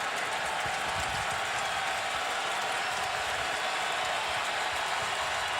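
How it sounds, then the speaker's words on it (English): Steady, loud roar of Texas fans in a stadium during a college football game against Oklahoma, a continuous wash of crowd noise with no distinct breaks, heard from a distance as a dense background. "most of that crowd noise you hear is coming from the Texas fans"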